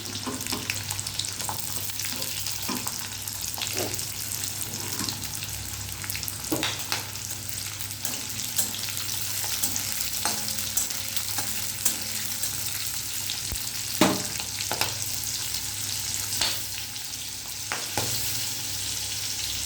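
Cubed chopped onions frying in a pan for dry chilli okra, a continuous hiss of hot oil broken by regular scraping stirs and occasional clinks of the spatula, close and steady throughout.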